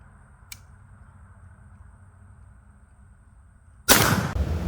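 A black powder muzzleloader rifle, a Hawken-style hunting rifle, fires a single loud booming shot near the end after a quiet outdoor lull with a faint click earlier, and the blast rolls off into a long decaying roar.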